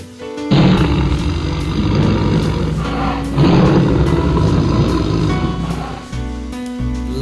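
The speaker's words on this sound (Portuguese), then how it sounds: "leopardo" A leopard gives two long, rasping roars, loud and close, with a short gap between them over a low steady backing.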